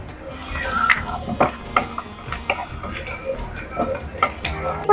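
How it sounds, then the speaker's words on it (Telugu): Ginger garlic paste frying in a pan, a steady soft sizzle under repeated scraping and stirring clicks of a spoon against the pan, close and moderately loud. "అల్లం వెల్లిగడ్డ పచ్చివాసన పోయేంత వరకు ఫ్రై చేసుకోవాలి"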